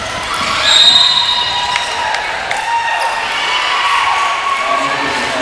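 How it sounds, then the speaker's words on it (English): Spectators at a women's basketball game cheer and applaud a player as she comes off for a rest, a steady mid-level arena crowd roar with scattered shouts and a few whistles. "the crowd applauds her efforts this game so far"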